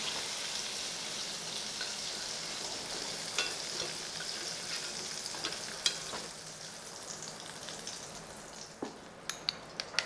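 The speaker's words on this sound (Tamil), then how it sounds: "லைட்டாக ஃப்ரை பண்ணிங்கன்னா போதுமானது" Paneer frying lightly in butter in a pan: a steady soft sizzle with occasional scrapes and clinks of stirring, fairly quiet and close.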